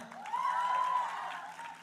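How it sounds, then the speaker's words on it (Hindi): An audience at a Bigg Boss OTT 3 launch event claps steadily for about two seconds, with a high whistle ringing over the crowd's clapping. "ताली बजाओ एक बार जोरदार"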